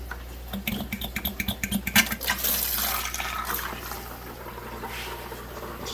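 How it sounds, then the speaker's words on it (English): Aquarium gravel vacuum siphoning water from a pleco tank during a water change: rapid gurgling, sputtering pulses for about two seconds settle into a steady rushing flow of water. "I'm just gonna start a little vacuum into the Pleco tank."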